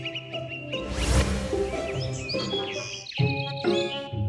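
Several birds chirp and tweet in a garden, bright overlapping calls and short trills up close over a soft background, with a louder burst early on and repeated chirps after.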